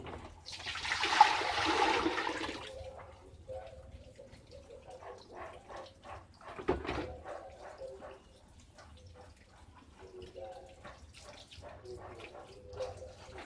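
Food is washed in water in a kitchen. A loud rush of water swirls for a couple of seconds, then lighter splashes, drips and small knocks follow, close by.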